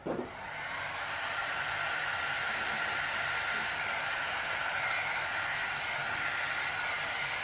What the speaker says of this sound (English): And where's my heat gun? Here we go.